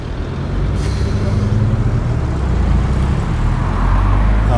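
A bus pulls away along a street at Oadby Parade, its engine a loud, steady rumble with a short hiss of air brakes near the start amid roadway noise.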